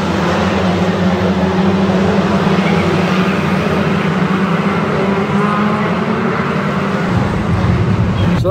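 Ministox stock cars racing on a wet, slimy track at Skegness, a loud continuous engine roar that holds close and steady throughout, with a drop in low rumble near the end.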